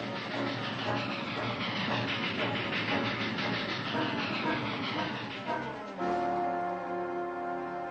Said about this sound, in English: That train's coming.